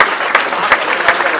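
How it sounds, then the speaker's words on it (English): A banquet audience at a high school sports hall of fame ceremony claps together, a dense close burst of applause with a few louder individual claps standing out. "they deserve a round of applause"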